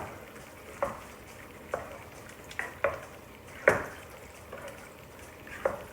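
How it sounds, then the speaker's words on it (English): Tripe in marinara sauce being stirred in a pot, quiet wet scraping strokes spaced about a second apart over a soft simmering sizzle. "And just mix it up."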